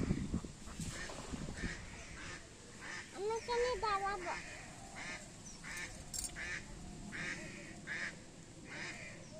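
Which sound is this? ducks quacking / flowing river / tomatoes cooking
ducks quacking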